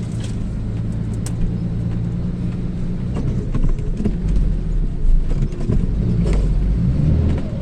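A car runs on the road, heard from inside the cabin as a steady low rumble with a few faint knocks and bumps.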